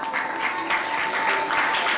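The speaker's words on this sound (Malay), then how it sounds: "Tepuk tangan untuk Cikgu Kamal" Applause from an audience at a school farewell event honouring a teacher, steady and fairly loud throughout with dense overlapping claps.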